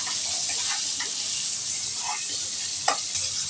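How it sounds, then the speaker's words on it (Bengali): Potatoes frying in a pan for a thin catfish curry, a steady close sizzle with a few stirring scrapes and a sharp clink near the end. "আমি একটু আলুগুলো ভেজে নিচ্ছি"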